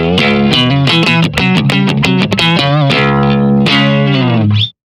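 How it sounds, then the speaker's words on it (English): An electric guitar runs through a Flatsons FCP-2 compressor pedal, with punchy, evenly levelled distorted notes and chords at steady loudness and long sustain, then a held chord before an abrupt stop. "With the compressor, you get the punch."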